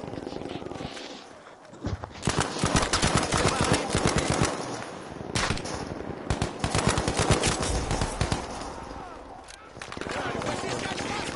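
Machine-gun fire in Battlefield 5 comes as dense, rapid automatic bursts separated by short pauses, loud and close, while players talk underneath.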